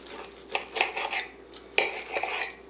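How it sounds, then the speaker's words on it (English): A knife cuts through a toasted jalapeño popper sandwich of turkey, Canadian bacon, Swiss cheese and garlic parmesan spread, making a few quiet scraping, sawing strokes against the plate with short pauses between them. "And let's cut this baby open."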